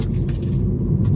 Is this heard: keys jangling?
yes